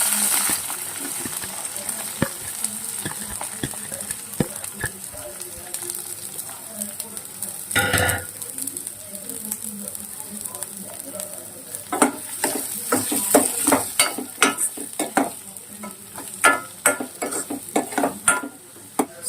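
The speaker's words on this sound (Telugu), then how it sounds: "ఇప్పుడు ఇదే ఆయిల్లో ఆనియన్స్, పచ్చిమిర్చి వేసుకుందాము" Onions and green chillies frying in hot oil for a gongura prawn dish, a steady sizzle with scattered clinks and scrapes of a utensil against the pan, growing busier toward the end.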